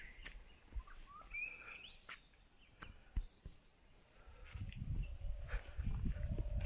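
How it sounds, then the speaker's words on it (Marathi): Birds call in the sacred forest grove around the Gangeshwar temple near Nadgive village in the Konkan. Scattered short chirps and whistles sound faint and distant over a soft hiss of insects, with a low rumble toward the end. "आजूबाजूला सुंदर पक्ष्यांचे आवाज येते."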